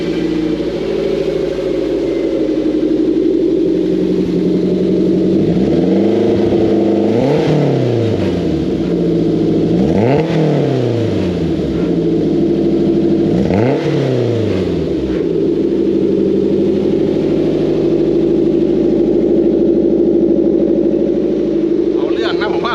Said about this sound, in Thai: ผมลองสตาร์ทให้ฟังชมหน่อย